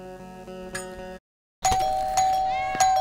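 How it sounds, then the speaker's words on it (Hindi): A doorbell chimes twice, each time a clear ringing ding-dong tone, separated by a brief silent gap. "अरे क्या मैडम, कब से घंटी बजा रहा हूँ।"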